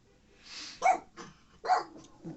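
Pet dogs barking inside a house, several sharp barks spaced out across a couple of seconds, somewhat distant and muffled as if from another room.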